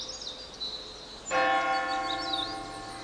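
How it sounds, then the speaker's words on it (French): A church bell at a forest sanctuary carved into a cliff rings out with one clear, sustained strike about a third of the way in, its ringing tone lingering to the end over faint birdsong and outdoor ambience. "La cloche de l'église sonne"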